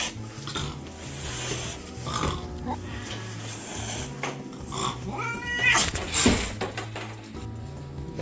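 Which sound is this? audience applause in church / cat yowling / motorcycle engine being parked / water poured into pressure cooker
cat yowling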